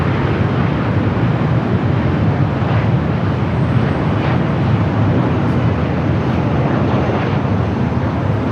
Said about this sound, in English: Flight coming in from Portland.